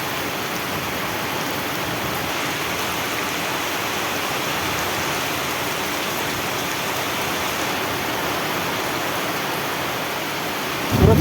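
Heavy rain pours steadily over a village in Bengal, a dense even roar that continues unbroken throughout, with a low rumble of thunder underneath and a louder burst at the very end.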